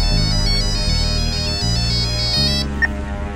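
A mobile phone ringtone plays loudly and steadily as a repeating electronic melody, stopping near the end with a brief click.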